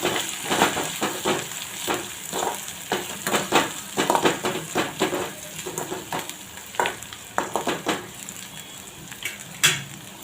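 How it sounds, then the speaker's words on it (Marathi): Chilli powder, coriander powder and garam masala sauté in a pan for eggplant bharit, a close sizzle overlaid with repeated scraping stirs of a spatula against the pan. "तिखट थोडासा धनिया पावडर आणि गरम मसाला छान परतून घेऊ."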